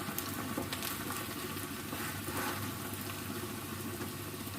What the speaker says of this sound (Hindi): नॉर्मल आंच पे हम आलू को फ्राई कर लेते हैं।